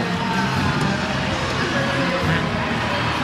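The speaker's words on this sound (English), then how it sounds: "And the Buckeye crowd going nuts." The Ohio State Buckeyes student section roars at a women's college volleyball match against Florida, a loud, dense, unbroken wall of cheering and shouting that holds steady throughout.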